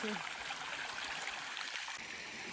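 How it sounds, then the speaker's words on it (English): Mountain creek flowing out of Exshaw Pass in Kananaskis, a steady broadband rush of water heard close and constant throughout, with no talking. "The creek that comes out of Exshaw Pass."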